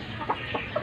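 A rooster clucks three short times in quick succession, close and moderately loud over a low background hum.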